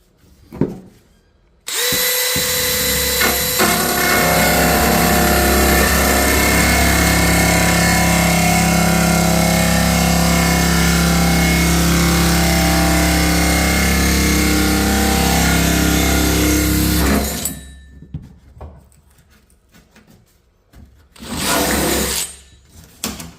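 A power drill with a dull bit runs at full speed for about fifteen seconds while building a rear deck, a loud sustained whine with a low grinding undertone that stops abruptly, followed by a brief second burst.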